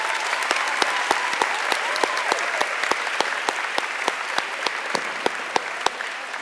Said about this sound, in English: Go ahead and give them a round of applause, please.